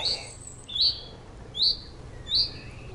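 Birds chirp outdoors at dusk, giving four short, high, bright calls at a slow, even pace over a quiet background.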